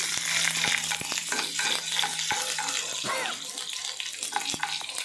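Onions frying in a pan give a loud, dense hiss close by, with a few sharp clicks and scrapes as they are stirred.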